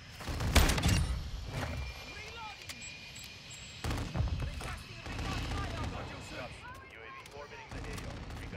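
Gunfire from an Expedite 12 shotgun in the video game MW2, several heavy booming shots spaced a few seconds apart over game noise, with someone talking in between.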